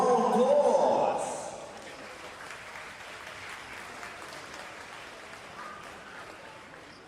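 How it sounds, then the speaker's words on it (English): Applause for basketball teams at a national league finals event, a burst of clapping in the first second that quickly fades into a quieter, steady crowd murmur. "Let's give them a round of applause."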